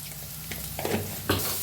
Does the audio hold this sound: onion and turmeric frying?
yes